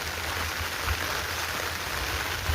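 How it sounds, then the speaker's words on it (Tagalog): Rain that has poured all night keeps falling on a slippery road, a steady hiss of drops with no voices over it. "Magdamag yung ulan."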